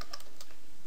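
Quick, steady keystrokes on a computer keyboard as a username is typed during storage system configuration, close and clear with a light clicking rhythm and no talk.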